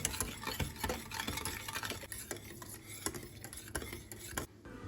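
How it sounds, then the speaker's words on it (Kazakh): A spoon scrapes and knocks against a pot in quick, repeated strokes, close and steady, as a thick sauce for a cake is stirred over medium heat. "Жақсылап енді соусымызды араластырамыз."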